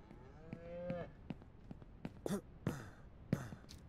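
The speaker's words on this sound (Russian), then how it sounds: "А когда доить вас будем? Коровушки." Cattle moo in the farming video game Ranch Simulator: several drawn-out, moaning calls at moderate distance, one long low moo followed by shorter ones in quick succession, with no talking.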